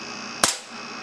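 A single sharp report from a .177 BB air cannon fitted with a new valve and electronic controls, firing outdoors at a can 10 meters downrange; one loud, abrupt blast over a steady background hum, then quiet.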